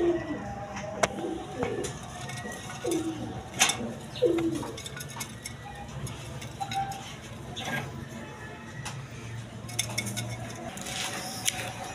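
Rajgolla pigeons at a seller's, soft cooing and scattered wing flutters and clicks, fairly faint, with someone talking over them and occasional clinks in the background.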